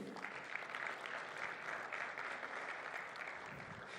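Applause from the audience at a financial centre's fifth anniversary event, a sustained wash of clapping from a room full of guests, fairly distant and even throughout.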